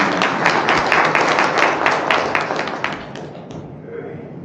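A symposium audience gives dense, steady applause that fills the hall, then tapers off after a few seconds.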